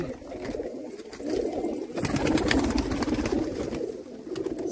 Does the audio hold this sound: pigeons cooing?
yes